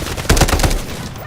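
A quick burst of several loud, close gunshots from the video game Delta Force, fired at a crocodile, rings out and fades in under a second and a half.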